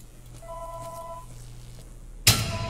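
Electronic telephone ringing in a Roblox Five Nights at Freddy's game, two short steady ring tones over a low hum, followed by a sudden loud burst of noise.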